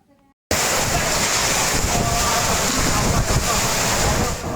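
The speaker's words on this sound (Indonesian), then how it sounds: "Video amatir ini terjadi saat merekam detik-detik angin kencang menerjang Bandara Noto Hadinegoro Jember" Strong wind lashes Noto Hadinegoro Airport in Jember, Indonesia, in an amateur recording: a loud, continuous roaring rush of gusts battering the microphone, beginning abruptly after a short quiet start and staying steady throughout.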